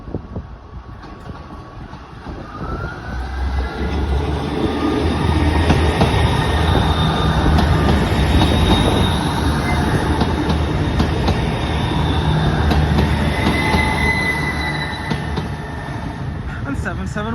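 A train rumbles past close by on the line toward Portsmouth, a steady loud roar with rattling wheels and faint squeals that swells and then slowly fades.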